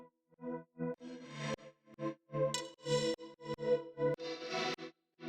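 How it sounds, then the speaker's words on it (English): Synth verse pad from the Comakid Hyper-Real Ableton pack, treated with reverb, compression and basic EQ, playing a sequence of short rhythmic chords with gaps between them and bright, slightly distorted upper tones. "this verse pad sounds like this"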